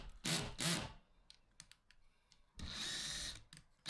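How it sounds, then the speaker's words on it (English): A cordless drill driving 35mm screws into handmade wooden feet, two short whirring bursts followed by light clicks and a longer steady drive, close and fairly quiet, no talking. "I'm just screwing on them feet that I made at the beginning of the video."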